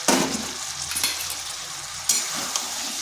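Cauliflower and potatoes sizzle and fry with spices in a kadai, stirred now and then, with crackling bursts at the start and again partway through.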